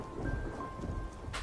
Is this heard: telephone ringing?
no